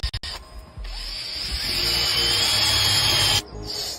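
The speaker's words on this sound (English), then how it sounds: "First, we drill a hole." A power drill bores a hole while an electroculture antenna is being made. After a few quick clicks, it gives a loud, close, steady whine for about two and a half seconds, then cuts off abruptly, with no talking.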